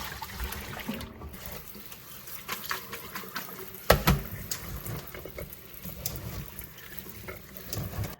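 Soaked beef tripe rinsed under running tap water, a steady splashing stream with sloshing and a few sharper knocks and splashes near the middle, close and continuous with no talk.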